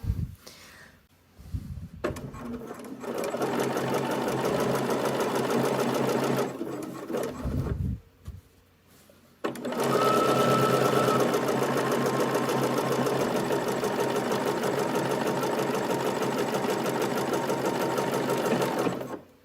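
A sewing machine runs steadily as it understitches the neckline of a drawstring top, with a steady close mechanical whir. It pauses briefly, then resumes for a long continuous run, and nobody speaks.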